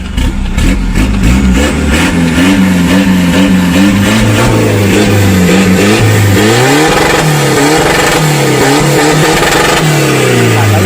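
A remapped Isuzu D-Max turbo diesel pickup with an aftermarket turbo and exhaust revs hard and close, its pitch climbing and falling in repeated throttle blips over a steady idle.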